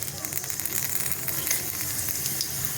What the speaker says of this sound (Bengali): তেল গরম হয়ে গেছে এখন এর মধ্যে একটা শুকনো লঙ্কা দিলাম একটা তেজপাতা দিলাম আর দেবো কালো জিরে